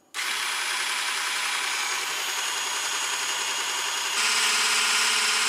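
Silvercrest SSMS 600 W hand blender running with its whisk attachment, a loud steady motor whine that starts abruptly and stays constant, then steps up to a higher, faster pitch near the end, with no talk.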